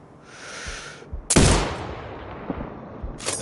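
Sniper rifle fired in the video game Sniper Ghost Warrior Contracts 2, a single sharp loud shot with a long rolling echo, set among soft game ambience and faint hissing.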